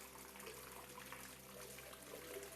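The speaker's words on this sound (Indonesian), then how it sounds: "Seperti yang Anda lihat di sini, kecepatan air masih terlalu cepat, meskipun ini kecepatan yang lebih rendah" Nutrient water running through hydroponic towers at a low flow setting, a steady soft trickle and gurgle heard close and continuous under a low electrical hum.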